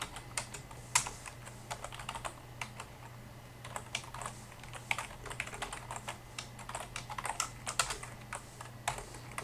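Code typed quickly on a computer keyboard, a quiet, close stream of irregular key clicks with brief pauses and an occasional louder keystroke over a faint steady hum.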